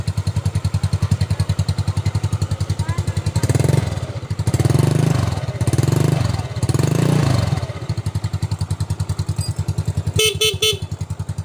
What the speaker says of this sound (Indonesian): Mesin masih halus ini guys.